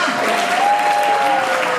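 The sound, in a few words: audience applause at university mushaira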